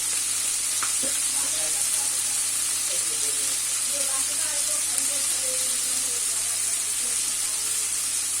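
Cluster beans fry in a pan with salt, giving a steady, loud, dense sizzle with soft scraping from continual stirring, and no voices.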